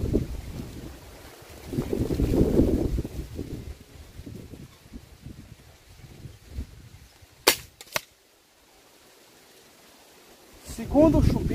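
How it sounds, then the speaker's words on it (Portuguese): Strong outdoor wind buffets the microphone at an airgun shooting session, a rumbling low roar that swells and eases, with someone talking over it and two sharp shot cracks near the end. "Muito vento, viu, moçada? Bastante mesmo."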